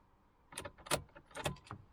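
Car keys jangle and clink as they are pushed into the ignition of a car with a flat battery, a few quick bright metallic bursts up close with no talk.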